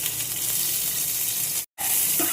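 Chopped onion frying in fish oil, a steady, loud, close sizzle that fills the whole clip, broken once by a brief silence before the frying noise returns.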